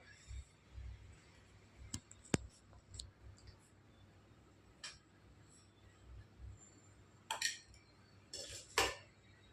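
A few light metallic clinks and taps of a small tea pot being handled, scattered and sparse, with a brief rattling cluster near the end over quiet room tone.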